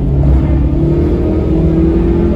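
Naturally aspirated car engine revving hard on the M-Ring race track, a loud, steady mid-pitched roar held close throughout with no talk.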